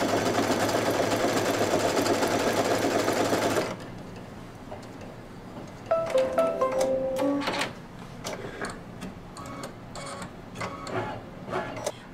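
A sewing machine hums in one loud continuous run for the first few seconds while stitching appliqué onto quilt batting for a candy corn quilt, then stops, leaving quiet clicks and light handling noises.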